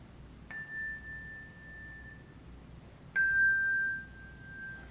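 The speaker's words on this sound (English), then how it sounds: "she's going to ring her chime, ring my chimes, and she's going to show you how to dampen." A handbell choir chime rings twice, each a clear sustained tone that is cut short when the chime is dampened, the second strike louder and closer, in a quiet room.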